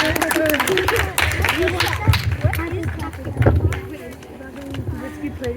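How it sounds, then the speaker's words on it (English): Audience applause during a synagogue Purim shpiel, a busy clatter of many clapping hands mixed with crowd noise and someone speaking over it throughout. "Keep clapping, please."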